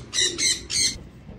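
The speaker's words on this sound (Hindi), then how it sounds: "ये देखें जी दोस्तों कबूतर" Pigeons kept by a pet house make three short, bright bursts of bird calls in quick succession, fairly close, followed by a quieter background.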